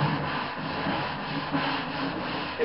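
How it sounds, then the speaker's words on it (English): Wood is sanded along the grain by hand, giving a continuous, close, gritty rubbing with faint rhythmic surges as the strokes go back and forth, with no voices. "It's a lot of sanding, I do know that."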